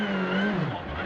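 A rally car on a hill-climb stage at the Rallye Rhône Charbonnières 2023 drifts across slippery ground, its engine note rising then dropping sharply in one brief, close, loud burst.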